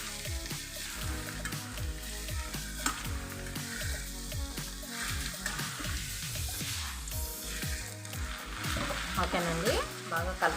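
Pieces of bottle gourd fry in a pan for a Telugu-style curry, with a continuous close sizzle and repeated scraping and clanking strokes as the spatula stirs them steadily, and nobody speaks.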